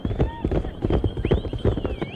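Racehorse hooves clip-clop in a quick uneven rhythm at a race meeting in mainland China, close and fairly loud, mixed with other activity and background noise.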